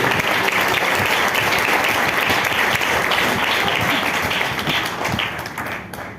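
A church congregation applauds the Lord Jesus Christ during a sermon, a dense, steady wash of many hands clapping close and loud, carrying alone for several seconds before tapering off at the end.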